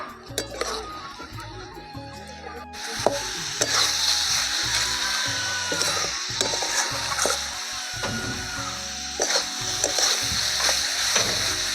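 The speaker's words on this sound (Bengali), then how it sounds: "এবার নাড়তে থাকি।" Chowmein seasoning of cumin powder, chili powder and masala sizzles in oil in a pan while being stirred, with scraping clinks of the spatula and a soft steady frying hiss.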